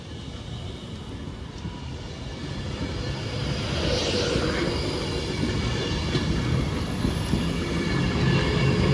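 A Class 390 electric train, unit 390.001, pulls out of Stoke-on-Trent station bound for Manchester Piccadilly, its steady motor whine and rolling rumble building slowly and staying loud and near throughout.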